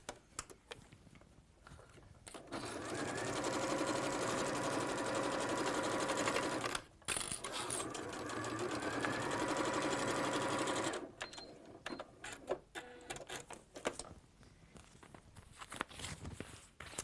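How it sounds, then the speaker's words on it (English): A sewing machine runs in one long steady burst stitching through quilted fabric layers and a cork base, pausing briefly once, then stopping, followed by scattered quiet handling noises. "we'll sew through all of those layers to secure them together there"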